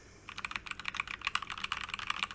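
Rapid typing on a computer keyboard fitted with new flat keycaps, a steady run of crisp, close clicks and clacks that starts after a brief quiet moment and continues with no voices.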